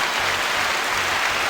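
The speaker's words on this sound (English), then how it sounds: "Let's get a little clap for you," Steady applause fills a podcast recording room as comedians are welcomed, a dense, even patter of many hands that holds at the same level throughout, with no voices over it.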